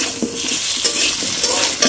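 Ground spices with ginger paste sautéing in a pan for potato curry, a close, loud sizzle with quick scraping stirs and clinks of a spatula throughout.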